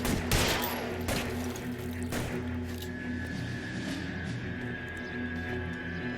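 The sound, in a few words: gunfire in the video game L.A. Noire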